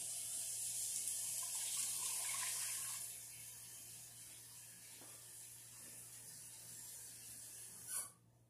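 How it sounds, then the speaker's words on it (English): Water is poured into an Insignia pot with baby back ribs, a steady splashing rush for a few seconds that then thins to a faint trickle, ending in a small clunk. "I'm using 2 cups of water."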